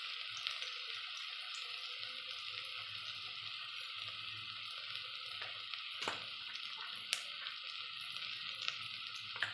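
A tempering of chili, turmeric and asafoetida sizzling in oil for kadhi: a soft, continuous frying hiss with scattered small pops and crackles, fairly quiet and steady.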